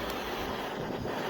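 A short burst of artificial rushing wind, a loud breathy roar blowing steadily across a Kovea Power Nano camping gas stove burner, with no voices.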